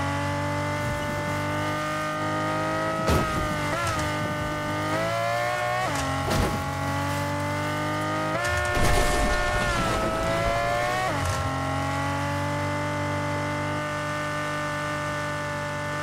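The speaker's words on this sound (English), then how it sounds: "I don't like the sound of this damn car." A car engine in Fortnite drones steadily at high revs, with sharp rises and dips in pitch as it accelerates and shifts, holding loud and close throughout with no talk over it.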